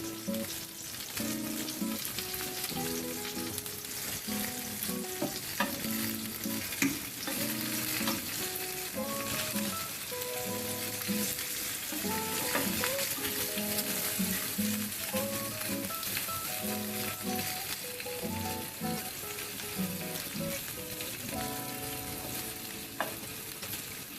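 Stuffed bell pepper rings sizzle steadily in a hot frying pan, a dense continuous crackle and hiss with bursts of spattering oil throughout, close and fairly loud with no talking.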